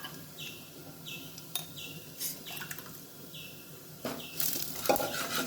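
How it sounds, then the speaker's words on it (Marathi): Ground spice masala with coriander-cumin powder, turmeric and chilli fries in a pan for drumstick amti, a continuous close sizzle broken by scraping stirs and clinks of a utensil against the pan. "सगळा मसाला फ्राय करून घ्यायचा"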